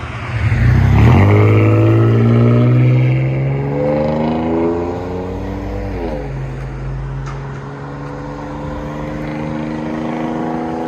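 A third-generation Toyota 4Runner 3.4L V6 with a Flowmaster exhaust revs up sharply, holds, then revs again before dropping back to a steady low engine tone.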